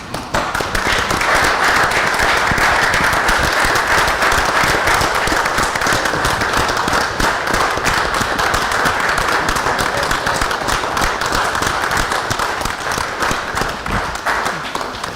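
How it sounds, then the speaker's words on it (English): A round of applause at a city common council meeting, dense steady clapping from the room that stays loud and even for about fifteen seconds, with no talking over it. "I'd like to have a round of applause for Councilor Allen."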